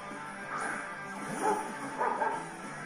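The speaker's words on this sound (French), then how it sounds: "Et voilà le petit chien que je vais rôtir." A dog Pokémon's cry from Pokémon Scarlet, a short series of yipping, bow-wow barks and a whimpering wail over soft game background music, heard up close with no voice over it.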